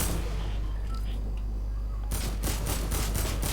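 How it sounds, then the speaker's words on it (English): Gunfire in Fortnite: after a quiet stretch with faint game ambience, a burst of rapid, sharp shots erupts midway and repeats in quick bursts, fairly close and loud. "Who is shooting?"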